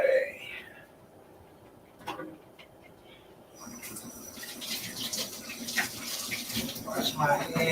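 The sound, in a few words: washing hands under running tap water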